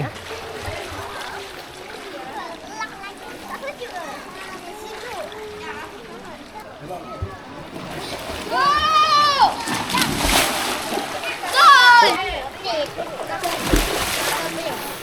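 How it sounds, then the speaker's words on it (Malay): People splashing and bathing in water outdoors at a mountain campsite, irregular sloshes and splatters building into louder bursts later on, with voices and shrill excited calls mixed throughout. "Masa untuk mandi."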